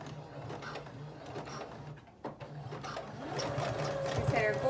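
A sewing machine stitches elastic into scrunchie fabric, running with a steady close mechanical hum and rattle that builds slightly louder toward the end.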